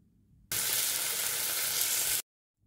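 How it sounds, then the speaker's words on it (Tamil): Onion, curry leaves and chopped tomato sizzle steadily in a hot pan for Pongal kuzhambu, a loud, even frying hiss that starts abruptly and cuts off just as sharply. "கட் பண்ணிய 2 தக்காளி சேர்த்து தக்காளி மசிகிற வரையும் வதக்கி"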